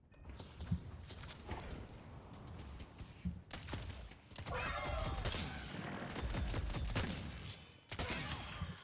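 Bursts of gunfire from a character's gun in a hero shooter game, rapid shots in clustered volleys mixed with game effects and footstep-like clatter, fairly loud against a busy background.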